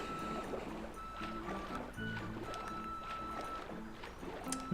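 Water splashing in the video game The Legend of Zelda: Skyward Sword, a steady burbling, sloshing wash mixed with game music tones, continuous and fairly close with small splashy bursts throughout.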